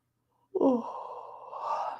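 A single drawn-out human yawn, starting with a breathy voiced onset and trailing into a long airy exhale, close and fairly quiet against a silent background.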